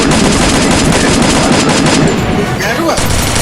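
Gunfire in the battle royale game Free Fire: loud, dense bursts of rapid automatic shots crackling almost without pause, with a voice faintly present underneath.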